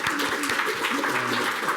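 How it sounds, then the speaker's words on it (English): A conference audience applauds a guest speaker at the close of a cyber security talk, giving a steady, dense wash of clapping that holds at an even level throughout. "One more big round of applause."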